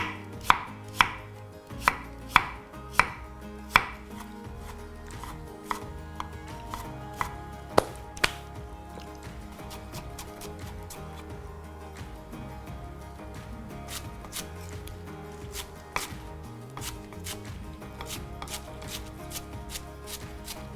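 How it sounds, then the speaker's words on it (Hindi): A knife chops carrots on a board in fast, sharp, close strikes, first in a quick regular run, then sparser and softer, with shuffling in the pauses. "दुकान नंबर 2 में यानी कि मंचूरियन की दुकान में गाजर और काट लेते हैं।"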